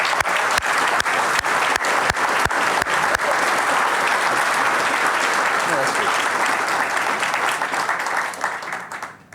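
A large crowd applauds steadily, with a few sharp individual claps standing out early, then the clapping tapers off near the end.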